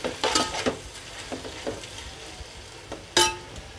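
Prawns and spices for prawn biryani stirred in a hot pan, with a run of scraping strokes and soft sizzling, then one sharper, louder scrape near the end; close and clear, no voices.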